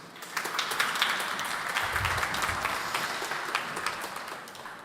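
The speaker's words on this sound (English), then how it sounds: "Please give them a hand of applause." Sustained audience applause for panelists at a digital summit stage, a steady crowd clapping at moderate distance with a few sharper individual claps.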